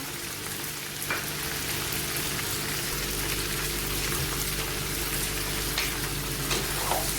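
Okra and onion fry in hot oil in a pan along with potatoes, giving a steady, even sizzle with soft crackles throughout. No voices are heard.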